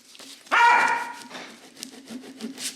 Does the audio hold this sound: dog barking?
yes